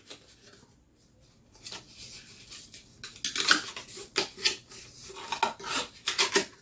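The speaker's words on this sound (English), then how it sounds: "You just take it, you fold it as to the shape that's cut into it." A pre-cut cardboard shipping box for sports cards being folded into shape by hand, giving a run of close, dry scraping and creasing rubs that grow louder and more frequent after a quiet start.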